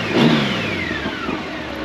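A 2007 Honda Goldwing motorcycle with an 1800cc engine runs close by, revving briefly and then easing into a steady mid-pitched hum, with no talk over it.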